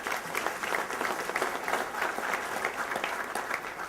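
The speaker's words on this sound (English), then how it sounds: "Let's give our media partners a round of applause, please." A conference audience at an annual economic summit gives a steady round of applause, moderately distant and even in level, with no voices over it.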